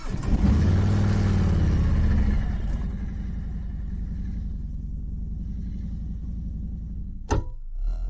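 A bagger motorcycle engine starts and settles into a low, steady idle, loud and rumbling at first, then a smooth even throb with a brief knock near the end.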